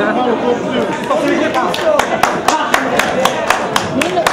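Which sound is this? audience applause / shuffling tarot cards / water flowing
audience applause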